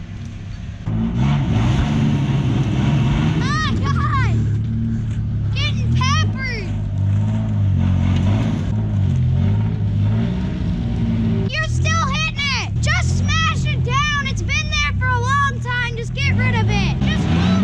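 A Toyota Tacoma engine drones at full throttle in first gear while stuck in mud off-road, a steady low roar running throughout beneath excited voices, including a child's, talking over it.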